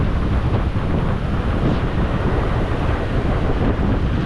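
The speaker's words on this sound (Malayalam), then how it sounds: "വെള്ളം കലങ്ങി മറിഞ്ഞു ഒഴുകുന്നു" Muddy, churning water rushes along a mountain stream beside a dangerous road from Killar to Kishtwar, a loud continuous roar blended with heavy wind buffeting the microphone, with no voices.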